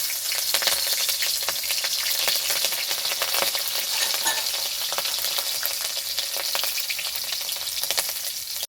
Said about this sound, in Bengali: কড়াতে দিয়ে দেবো কেটে রাখা লঙ্কা